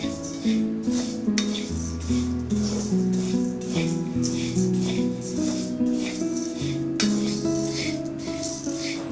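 Rice grains frying for aggala scrape and rattle in a pan under a spoon, with a steady rhythm of stirring strokes over a soft sizzle.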